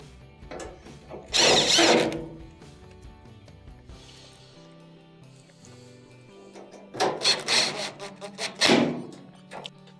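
Power drill driving four screws back into the plastic panel of a Maytag dryer during water inlet valve repair: two short bursts of whirring, with faint knocks and handling between them.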